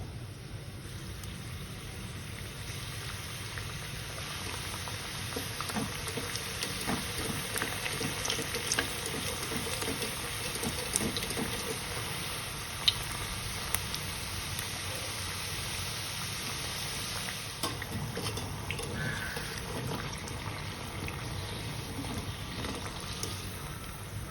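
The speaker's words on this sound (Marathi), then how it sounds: "आपल्याला गॅस मध्यम आचेवर ठेवायचा आहे आणि या करंज्या हळूवार तळून घ्यायच्या" Karanji pastries with a fresh coconut filling frying slowly in hot oil over a medium flame, giving a steady, soft bubbling hiss that holds even throughout with a few faint clicks and no voices.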